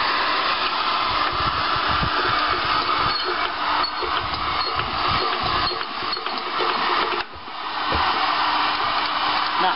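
A Coventry Victor engine held at full throttle gives a loud, steady mechanical roar that continues throughout, dipping briefly near the end and then resuming, with no voices.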